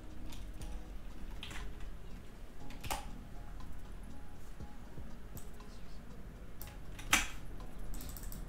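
Quick, light keystrokes on a computer keyboard come in short scattered bursts with occasional clicks, quiet and close against a faint steady background hum.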